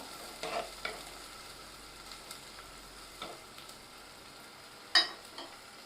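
Chopped curry leaves fry in a pan for a prawn-head curry, giving a soft, low sizzle punctuated by a few sharp stirring clicks and scrapes.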